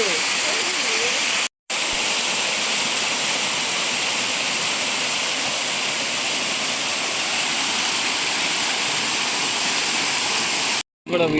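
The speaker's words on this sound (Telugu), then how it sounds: "సో అక్కడ వాటర్ ఫాల్స్ వస్తాయి కదా" Water rushes continuously at Nileshwarapalem waterfalls, a loud, steady broadband roar of falling and flowing water filling the whole stretch, briefly cut out twice.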